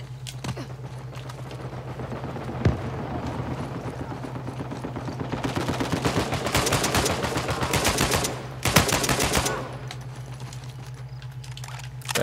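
Gunfire in Uncharted 4 online multiplayer, with sporadic shots giving way to rapid automatic bursts in the middle and a few sharp cracks, all over a steady low hum.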